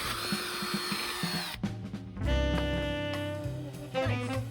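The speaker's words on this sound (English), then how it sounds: "we can drill the holes in each of the backing plates" Power drill boring holes through epoxied backing plates for boat thru-hull fittings, a loud close whine that starts, stops and restarts in short bursts, with no talking.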